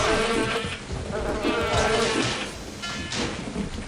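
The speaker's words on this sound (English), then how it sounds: "Bugs and frogs." Bugs and frogs in the Daikatana video game fill the space with a dense, loud buzzing and rasping chirr, rising and falling in a few uneven swells with no talk.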